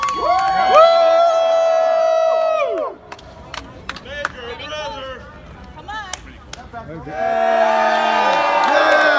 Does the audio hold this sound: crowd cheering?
yes